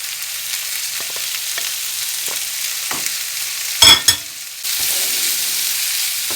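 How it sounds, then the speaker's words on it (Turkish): Chopped green olives sizzle and crackle as they sauté in a hot pan, with a few stirring scrapes and a brief clatter midway before the frying resumes louder. "Şimdi doğramış olduğum yeşil zeytini ilave ediyorum"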